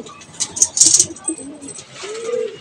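Donated pigeons coo softly at close range, short throaty calls mixed with a few sharp chirps and wing or cage rustles, with quiet voices in the background.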